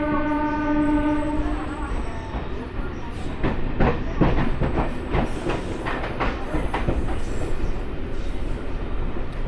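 A MEMU express train pulls out of Kottavalasa junction station, opening with a long, loud horn blast, then wheels clatter and clank over rail joints in irregular bursts under steady rumbling motion.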